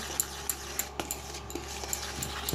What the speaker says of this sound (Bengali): আমি এখন এই ড্রাই ইনগ্রিডিয়েন্টসগুলো একসাথে মিশিয়ে নিচ্ছি